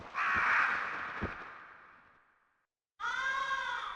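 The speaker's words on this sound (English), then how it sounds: "The music fades out and you just hear the cawing of birds off screen." Harsh crow caws from a video game set on Mars, in Planet Laika, ring out, a long echoing call fading into silence, then another loud caw starts abruptly.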